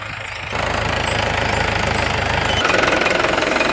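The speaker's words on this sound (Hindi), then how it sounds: "तो चलते हैं ट्रैक्टर पर बैठेंगे" Tractor engine running on a farm field during sowing, starting up after a brief quiet moment and then chugging loudly and steadily with a knocking diesel rhythm, no talk.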